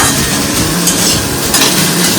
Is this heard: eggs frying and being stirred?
yes